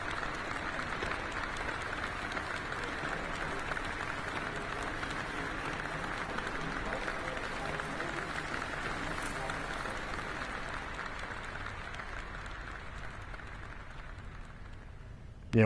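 Applause from an audience in the video game Detention, a steady wash of clapping that holds evenly and slowly fades before ending, with a voice faintly talking over it.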